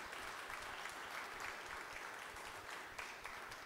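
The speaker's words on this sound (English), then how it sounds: "I would ask everyone to give General Gregg, 92 years young, another round of applause." An audience applauds for a 92-year-old retired general at a military ceremony, a steady, even wash of clapping from many hands heard at a moderate distance.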